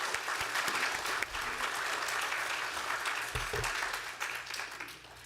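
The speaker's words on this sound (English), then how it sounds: "Let's give a big round of applause for our friends and family tonight." A large audience at an honors program awards ceremony claps steadily and densely for several seconds, the applause sustained and fairly loud, with a few sharper claps standing out.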